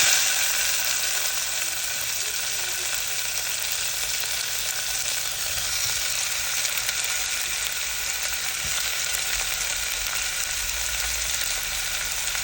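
Chopped tomatoes dropped into a heated pan on the stove, giving a loud, dense, steady hiss and crackle of sizzling that holds evenly throughout with no voices.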